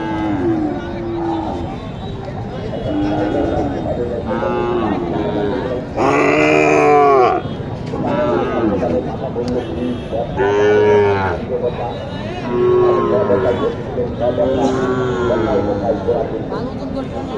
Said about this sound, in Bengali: এটা কি জাতের গরু